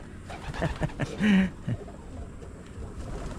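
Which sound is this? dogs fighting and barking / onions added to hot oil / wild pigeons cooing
wild pigeons cooing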